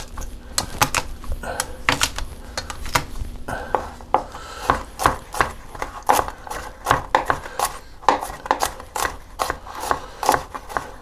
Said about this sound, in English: All right, I'm gonna chop that garlic. Let's crush it.